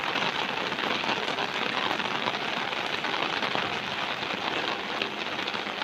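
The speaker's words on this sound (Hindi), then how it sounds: "ये बारिश हो रही है, बहुत तेज़ सुबह से हो रही है।" Heavy, steady rain falls continuously on surfaces in Lodhran city, a dense, even hiss that stays loud throughout with no pauses and no voices.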